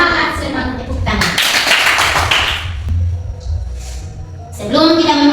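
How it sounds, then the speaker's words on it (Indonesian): A fourth-grade class of schoolchildren claps hands together in a dense burst lasting a couple of seconds, set between stretches of voices talking in the classroom. "Tepuk tangan."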